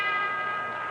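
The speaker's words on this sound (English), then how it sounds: "Bell for round 5" A boxing ring bell for round five in the Archie Moore vs. Giulio Rinaldi light heavyweight title fight rings out as one loud, sustained metallic ding and fills the whole moment.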